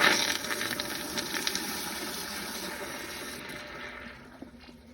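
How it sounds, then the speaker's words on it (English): A 2004 American Standard Cadet pressure-assist toilet flushes up close on a normal water line, starting with a loud, forceful whoosh that settles into steady rushing water and tapers off near the end, with no talking. "I'm gonna do a close-up flush on a normal water line"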